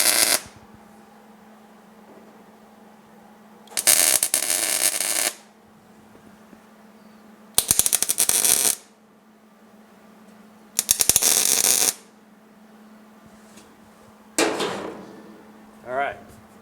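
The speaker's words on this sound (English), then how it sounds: "get this welded up right here" MIG welding on the rear seat backrest frame of a 1967 Pontiac GTO restomod, close and fairly loud: four separate bursts of crackling, sizzling arc, each about one to one and a half seconds long, with a steady low hum between them.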